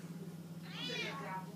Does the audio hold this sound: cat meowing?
yes